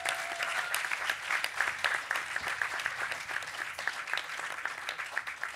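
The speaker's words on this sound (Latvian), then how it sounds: "aplausi Mārim" Audience applause after a storyteller named Māris at the Lampa 2024 festival, steady crowd clapping with distinct individual claps throughout, moderate in level.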